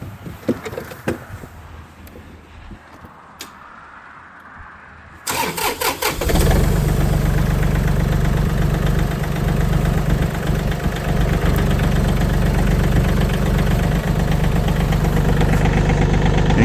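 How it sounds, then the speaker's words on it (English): A John Deere 3320 tractor's engine cranks and fires at about five seconds after some quiet handling noises, then settles into a steady, loud, close idle that runs without a break to the end. "Crank the tractor up."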